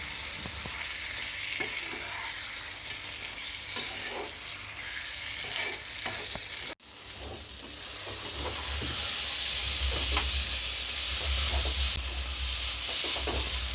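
Mutton iguru fries and sizzles in a pan with steady stirring scrapes, a loud, continuous close sizzle that briefly drops out midway and then returns stronger.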